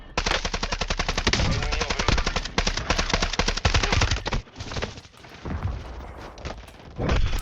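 Sustained machine-gun fire in Call of Duty Modern Warfare, fast regular shots for several seconds, then a pause with rumbling echoes before another burst near the end; no voices.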